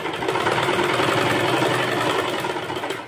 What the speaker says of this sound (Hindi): इस साइड में सिलाई लगाऊंगी